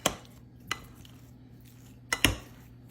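Apples with cinnamon and brown sugar are stirred in a dish, heard as a few sharp, close knocks and scrapes of the utensil, with quiet gaps between them.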